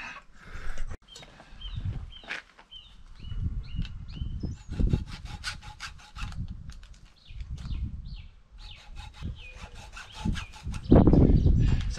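A hand saw rasps through wood in repeated back-and-forth strokes, each stroke a gritty burst, with small clicks and knocks between them.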